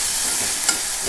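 Tomatoes and onion sauté in a pan, a brief close sizzle with a faint stirring scrape near the middle and no voices.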